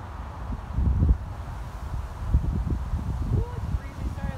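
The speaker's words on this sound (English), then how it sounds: "it's breezy" Gusts of wind buffet the microphone outdoors during a beehive inspection, giving uneven low rumbling thumps that come in bursts over several seconds.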